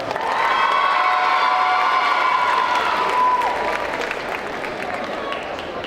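Loud applause and cheering from a cosplay convention audience greeting a contestant in Glavnus Acid armour, dense clapping with sustained shrill whoops that ease off slightly toward the end.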